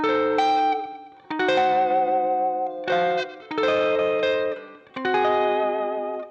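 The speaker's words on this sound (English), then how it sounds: "I use the tremolo and some reverb, and the Bigsby really kicks it up" Reverb-soaked electric guitar with a Bigsby vibrato plays a slow melodic phrase in sustained chords and notes, with a wavering tremolo pulse and brief pauses between phrases.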